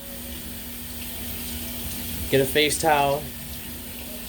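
Hot water runs steadily from a bathroom tap during a men's nightly facial cleansing routine, a constant hiss under a man's brief speech.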